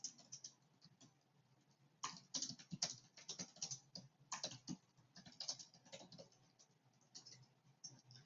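Quiet, close typing on a computer keyboard, irregular bursts of key clicks with short pauses between runs of keystrokes.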